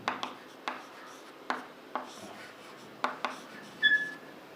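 Marker or chalk strokes on a classroom board, several separate short scratchy bursts spaced irregularly, close and fairly quiet, with a brief faint squeak near the end.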